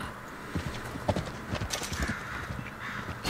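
Horse hooves clip-clop at a steady walking rhythm in Red Dead Redemption 2, close and fairly loud, with a brief neigh-like accent partway through over a low game ambience.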